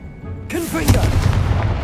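A Confringo blasting curse cast in Hogwarts Legacy, a sudden blast that bursts in partway through and then rumbles on as a loud, deep, sustained boom.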